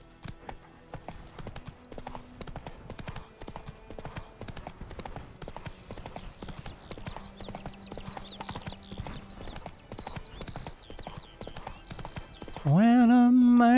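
Hooves of Geralt's horse Roach in The Witcher 3 clip-clop in a steady trotting rhythm, moderately loud, with faint game music beneath and a brief whinny-like tone near the end.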